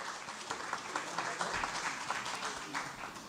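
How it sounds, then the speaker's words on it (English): Applause from the audience at a higher-education summit as a speaker comes up, a continuous patter of many hands at moderate distance, with some faint room murmur underneath. "let us just give her a round of applause as she starts"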